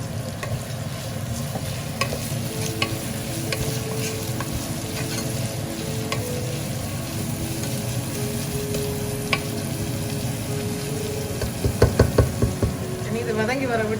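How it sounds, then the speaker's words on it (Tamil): Onions frying with salt in a pan for a Jaffna-style deer curry: a steady close sizzle with occasional stirring knocks and scrapes, a cluster of louder clatters near the end, no talk over it. "கொஞ்சம் உப்பு போட்டோம்னா வெங்காயம் வதங்கி வரும்."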